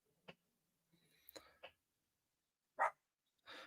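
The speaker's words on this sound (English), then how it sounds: "I have a dog. I have to go tell not to bark at the neighbors." A dog barks somewhere off in the distance, with a few short, separate yaps spaced out over a quiet background and no one speaking.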